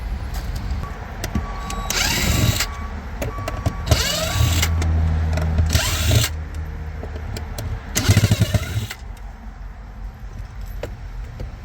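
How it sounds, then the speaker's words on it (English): Power drill backing Phillips screws out of a 2009 BMW M3 seat: four short, loud whirring bursts spaced a couple of seconds apart over a low background hum, with no talking. "So now you remove 6 Phillips screws."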